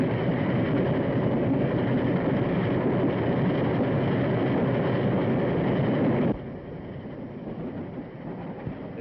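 A train runs along the rails with a steady, dense rumble that drops suddenly in level partway through and then carries on more quietly, with no voices over it.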